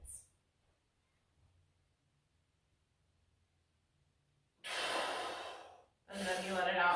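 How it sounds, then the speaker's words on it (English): A person takes a deep breath in and then releases it during a breathing exercise: after a long quiet pause, a strong close inhale lasts about a second, followed by a forceful exhale. "you take that breath in and you hold it for 20 to 30 seconds"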